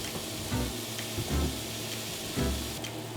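Beets searing in a hot pan for a vegan beet bourguignon, a continuous close crackling sizzle with a few soft bumps as the pieces settle, no voices.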